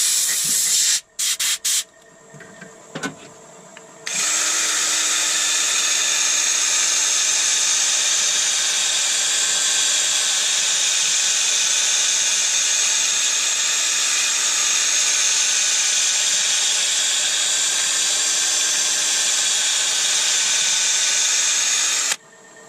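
After a few brief clicks and knocks, a loud, steady hiss of compressed air blows wood dust off a turned sapele bowl continuously for nearly twenty seconds, then cuts off.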